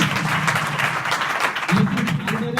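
Audience of students at a girls' higher secondary school clapping to welcome a speaker, brisk steady applause filling the room, with a voice briefly speaking over it near the end.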